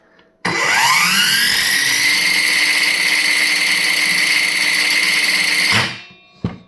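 Ronix cordless circular saw spun up with no load, a sharp rise into a loud, steady high-pitched whine of motor and blade held for about five seconds, then winding down.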